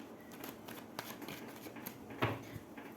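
Tarot cards shuffled by hand in a quiet room, a run of soft papery riffles and flicks with one sharper slap near the end, no voices.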